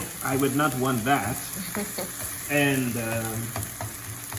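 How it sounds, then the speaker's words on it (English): Onion sizzles steadily in a hot pan for Spanish rice, a continuous close frying hiss under a man's and woman's conversation. "while I'm waiting on my onion to saute"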